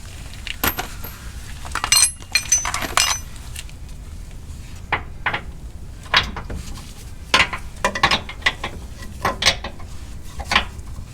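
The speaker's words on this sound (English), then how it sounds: "Got to use an open end wrench on that nut." An open-end wrench working a nut on the rear shock mount of a Jeep Gladiator during a lift install, giving scattered sharp metallic clicks and clinks over a steady low background hum.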